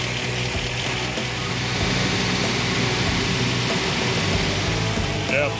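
A 1965 Chevrolet Corvette engine runs steadily and loudly up close, a continuous low rumble with no break, while the alternator charging is being checked.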